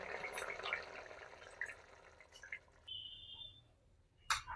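Thin pabda fish curry cooked with potato, eggplant and bori being poured into a serving dish, a faint soft liquid trickle with a few light clinks, no talk.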